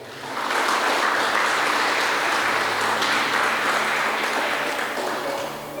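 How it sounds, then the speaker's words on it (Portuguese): A church congregation applauds together, a dense, steady wash of clapping that swells quickly and holds loud and even for several seconds. "Você pode dar uma salva de palmas para o Senhor?"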